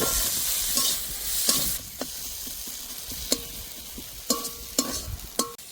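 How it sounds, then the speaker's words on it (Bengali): Chopped, salted tomatoes fry in a pan with a continuous crackling sizzle, punctuated by several distinct scrapes and knocks from a stirring spoon, close and clear with no talking. "ভালো করে টমেটো ভেজে নিয়েছি"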